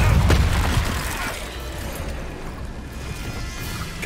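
A Depulso force spell cast in the video game Hogwarts Legacy: a loud, rumbling magical blast with a crashing, shattering edge at the start that fades into a sustained noisy wash.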